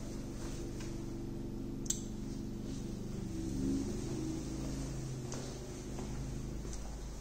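A 4500 watt 120v generator running at about a quarter load on a full tank of gas, giving a steady, even engine drone with a low hum throughout and a few faint ticks and clicks on top.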